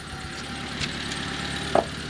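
Motorcycle engine idling with a clogged fuel filter and a faulty old fuel pump, its RPM sometimes rising on its own when hot; a steady, moderate idle rumble with a brief knock near the end.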